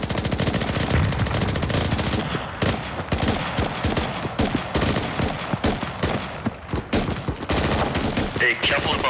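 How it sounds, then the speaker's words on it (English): Sustained light machine gun fire in the video game Squad, rapid continuous bursts of loud close gunshots with brief pauses, dense and unbroken throughout. "LMGs, keep up that heavy fire."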